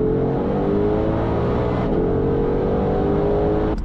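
A 2021 Shelby GT500 Mustang cruises in seventh gear, its engine giving a steady, loud low drone with a smooth hum that shifts slightly in pitch midway, heard from inside the cabin.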